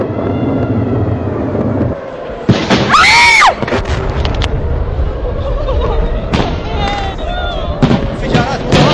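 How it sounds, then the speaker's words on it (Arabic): Loud, repeated booming blasts in quick succession over a constant low rumble, with bursts of noise and a voice calling out briefly in between. "انفجارات متواصلة"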